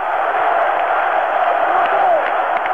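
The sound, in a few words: crowd cheering and acclaiming General de Gaulle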